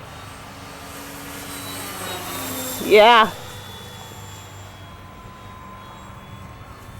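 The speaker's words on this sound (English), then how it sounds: "half throttle on these FMS planes does this for you" An FMS P-47 Thunderbolt RC plane, fitted with crash-proofing and a larger battery, whines past at half throttle: a steady distant drone swells into a sharp, loud pitch-shifting burst lasting under half a second, then fades back, with a brief spoken word.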